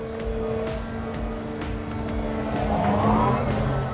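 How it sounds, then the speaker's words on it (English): A 23-ton electric excavator runs its hydraulics with a steady whining hum and motor drone, with faint clicks and a rising tone near the end, all fairly close and with no engine roar. "You can hear the hydraulics going a little bit."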